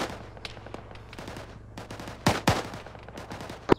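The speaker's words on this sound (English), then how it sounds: "I have a 50 cal shooting at me" .50 cal machine gun fire in the military video game Arma 3, a series of fairly faint, distant sharp reports in an irregular rhythm, with two louder close cracks near the end.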